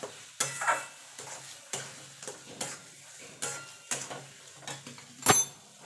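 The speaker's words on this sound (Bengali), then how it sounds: "এবার ভালো করে মিশিয়ে নেব।" Mashed flat-bean (shim) bharta is stirred and mixed in a kadai, giving repeated scraping and stirring strokes at a steady rhythm, with a faint sizzle underneath and one sharp metallic clack near the end.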